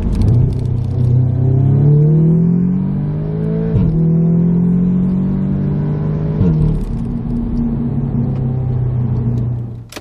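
An Audi S3 8V facelift with a resonator delete rumbles up close, its exhaust droning with a deep, raspy tone as the revs climb and settle in a few sweeps.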